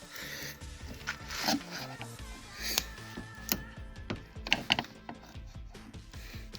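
A screwdriver prying a trim strip off a Volkswagen Beetle 1303 during restoration. Close, irregular metallic clicks, snaps and creaks come in short bursts, with small scraping sounds between them.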